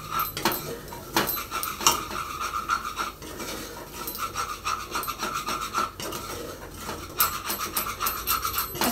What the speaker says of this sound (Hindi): अच्छे से इसको मिक्स करेंगे ताकि ये एक साथ अच्छे से भून पाए।